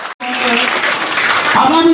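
Audience applause breaks out at a Tamil public gathering honoring a community member, a dense, steady wash of many hands clapping that continues for about two seconds after a brief cut.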